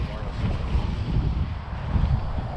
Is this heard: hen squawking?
no